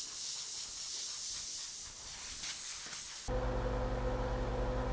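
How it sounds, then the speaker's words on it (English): Compressed air blows dust out of the open grain of wood being prepped for a cerused finish, a steady close hiss for about three seconds before an abrupt switch to a loud droning machine hum. "I'm prepping for the Ceruse finish by blowing out any dust in the grain of the wood"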